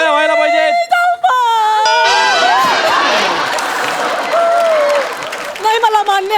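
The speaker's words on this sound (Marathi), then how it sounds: "तर एकदा जोरदार टाळ्या व्हायला पाहिजेत" A comedy-show audience bursts into clapping and cheering, a broad wash of applause rising mid-way among whoops and excited voices, with loud speech-like tones before and after it.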